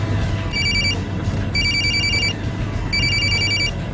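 A telephone rings in three evenly spaced electronic trills over a steady low background hum, with no voices, heard during a road-safety segment about not answering calls while driving.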